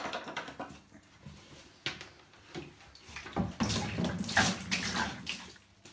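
Water splashes and gurgles as 25-litre containers of aquarium saltwater are tipped into a tub, uneven pouring that swells louder midway, fairly quiet and close, with no talking.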